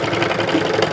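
A serger finishes a skirt seam allowance, running with a fast, steady mechanical whir and rapid needle chatter, close and continuous.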